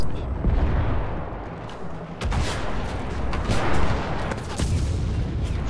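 Gunfire and explosions from the World War II shooter Enlisted, with dense rapid shots, sharp cracks and heavy booms layered continuously in a loud battlefield din, no speech.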